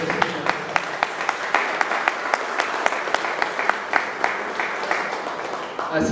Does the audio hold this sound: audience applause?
yes